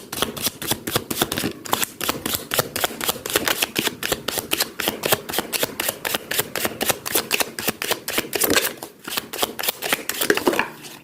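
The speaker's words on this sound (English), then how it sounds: "some reality check with this light seer tarot deck. Let me shuffle this." Tarot cards are shuffled continuously, a rapid, even riffling flutter that carries on steadily from start to finish with no voices.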